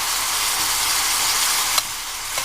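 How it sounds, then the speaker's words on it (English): Corn stir-frying in a pot: a steady, bright sizzle hisses throughout, close and even, with a couple of small clicks near the end. "soon the corn will be sort of cooking on the plate of the pot"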